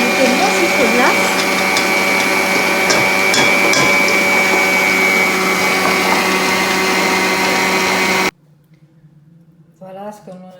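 Electric hand mixer whirring loudly and steadily through mascarpone cream and icing sugar, then cutting off abruptly, followed by a quiet pause and a woman's brief speech.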